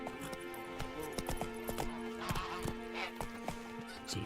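Hooves of the horse Roach in The Witcher 3 clip-clop in an irregular trotting rhythm, sharp and close, over a sustained musical drone with a brief whinny-like tone.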